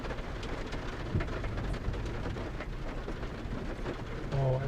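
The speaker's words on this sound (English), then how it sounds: "you can't see anything, it's raining so hard." Heavy rain falls hard during a storm, a dense, loud, continuous downpour with crackling drops hitting surfaces close by, no voices present.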